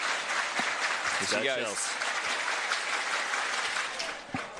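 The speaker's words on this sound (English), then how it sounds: "Trying to get some crowd support with the clap. And the Perth crowd is getting into it." A Perth crowd at a track meet claps along for an athlete, a dense wash of clapping under a commentator's brief remark.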